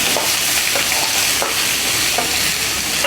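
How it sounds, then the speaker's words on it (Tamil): Chopped onions frying in hot oil with whole spices for roadside-style idli kuruma, a loud dense continuous sizzle with a few faint stirring scrapes, close and without speech. "வெங்காயம் நல்லா வதங்கணும்"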